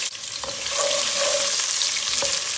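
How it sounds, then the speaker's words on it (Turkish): Onions sizzle and crackle steadily in hot oil, a dense close frying hiss with occasional stirring clicks. "Soğanı şöyle güzelce bir kavuracağız."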